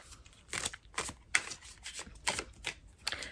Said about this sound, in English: I'm getting better at shuffling these cards without dropping them